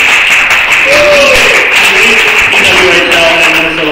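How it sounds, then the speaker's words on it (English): Crowd applauding inside Zambonis bar during a live hockey talk show taping, a steady wash of clapping filling the whole span at close, loud level with no speech. "Let's have the crowd here give them a nice hand"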